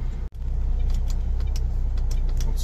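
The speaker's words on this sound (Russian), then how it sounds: "Вот сейчас задним ходом опять выравниваю и буду проезжать вот между двух машин." A car reverses slowly to line up between two parked cars near a construction site, its engine a low steady idle hum close by, broken by one brief dropout near the start.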